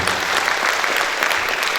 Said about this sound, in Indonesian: Kita tepuk tangan untuk Kabupaten Dairi